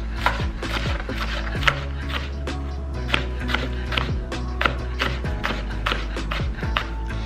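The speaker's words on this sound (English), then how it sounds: "I'm just gonna run my knife back through the red onion so that the pieces can be as small as possible" A knife chops red onion finely on a cutting board, a steady series of crisp, close taps in an even rhythm, loud and continuous with no speech.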